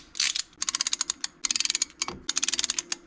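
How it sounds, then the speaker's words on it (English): A small ratcheting tool clicks in rapid bursts of sharp, evenly spaced clicks, pausing between runs, as it compresses a front brake caliper piston on a B8.5 Audi A4 Quattro; close and fairly loud with no talk. "I've got this little ratcheting tool that will compress the piston."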